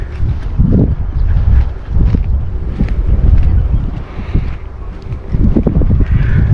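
Wind gusting across coastal sand dunes at Lytham St Annes, a loud, steady roar buffeting the microphone with rising and falling surges and no voices.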